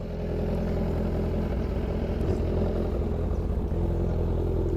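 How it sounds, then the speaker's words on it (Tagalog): A 2017-18 Kawasaki Z1000 R motorcycle idles while warming up, its engine giving a steady, deep, throbbing rumble that runs unbroken and close throughout. "may painit natin yung makina bago tayo bumachi"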